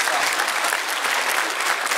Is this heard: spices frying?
no